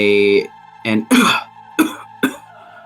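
A voice imitates coughing, starting with a drawn-out vocal sound and then giving several short, harsh hacking bursts.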